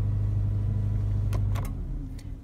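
A car engine idles with a steady low hum, then cuts off about two-thirds through, leaving a few faint clicks and a quiet cabin; an RS-20S socket splitter with power-on delay timer is fitted in the car.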